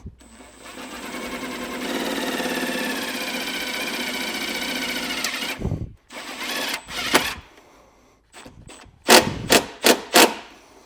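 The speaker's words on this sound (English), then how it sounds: "using the provided self-tapping screw to get it secured" Self-tapping screw driven into a thick metal section of a 2024 Jeep with a power driver: a steady whirring drive for several seconds, then short bursts of driving and clicks, close and moderately loud.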